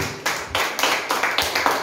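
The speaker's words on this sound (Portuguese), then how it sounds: "Aplauda ao Senhor em nome de Jesus." Congregation at a church service clapping in rhythm, sharp regular claps roughly every third of a second, loud and close, with no talking over them.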